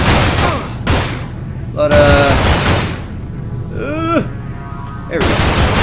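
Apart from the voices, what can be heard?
gunfire from guns in the video game Manhunt 2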